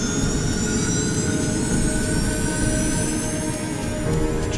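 Airliner jet engines run at full thrust during a test flight, a steady, loud, unbroken roar with a high whine over it, with no talk.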